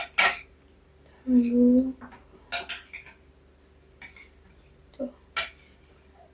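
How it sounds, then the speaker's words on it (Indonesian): Coconut milk for mung bean porridge is stirred in a metal pot, with a spoon clinking and scraping in a few separate strokes, one ringing out briefly. A voice speaks quietly in between. "Kita aduk dulu guys."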